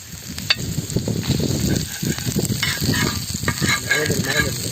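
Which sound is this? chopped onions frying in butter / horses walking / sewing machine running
chopped onions frying in butter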